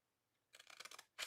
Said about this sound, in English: So I just take my scissors,